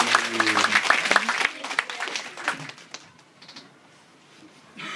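An audience applauds teacher Ma at a school farewell gathering, a burst of clapping that blends with voices and then fades away toward the end.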